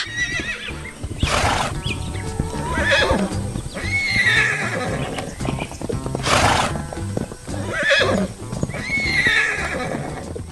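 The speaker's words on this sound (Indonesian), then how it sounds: "Lihatlah, kuda-kuda yang lucu sedang bermain di tengah lapangan hijau, berlarian dengan ceria di hari yang cerah." Cartoon horses frolic in a green field on an animated farm, giving loud, repeated whinnies and neighs over a busy backdrop of trotting hooves clip-clopping, with no talking.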